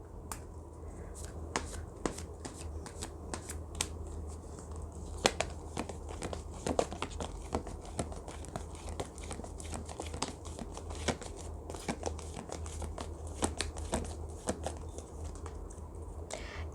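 A deck of oracle cards is shuffled close by, soft quick riffling clicks and taps repeating steadily over a long stretch in a quiet room.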